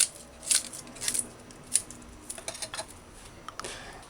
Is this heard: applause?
no